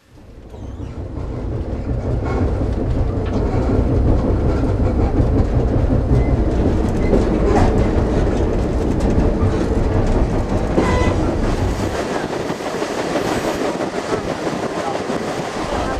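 A train rides the rails with a loud, continuous rumble and a steady clickety-clack of wheels on track joints, the low roar easing off slightly near the end.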